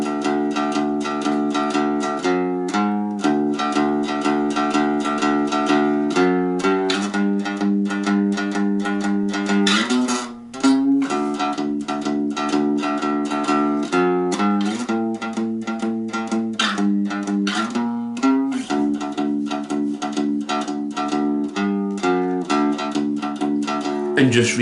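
One-string cigar box guitar, a diddley bow, playing a twelve-bar piece, twangy sliding notes with a distorted, buzzy tone, continuous and upfront with rhythmic strummed accents throughout.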